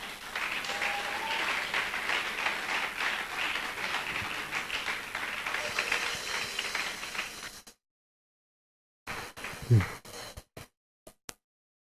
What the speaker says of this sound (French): donne une chaude acclamation pour le Seigneur